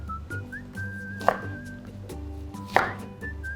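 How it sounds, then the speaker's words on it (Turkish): Two sharp knife chops through an onion on a cutting board, about a second and a half apart, over a steady low hum with a faint whistling tone. "Sonrasında onları da böyle ortadan ikiye bölüyorum ki rahat pişsin diye."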